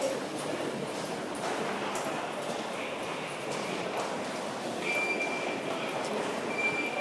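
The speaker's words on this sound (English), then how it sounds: "London Waterloo is a really big train station" Ambience inside the London Waterloo tube station, a steady crowded wash of echoing footsteps, shuffling and murmured voices with a faint high tonal squeal near the end, fairly distant and constant.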